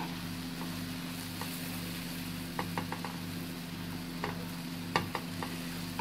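Breakfast food fries in a pan on a home kitchen stove, a steady soft sizzle with a low hum beneath and a few scattered clicks and scrapes as it is flipped.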